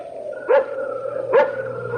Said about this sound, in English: That barking dog.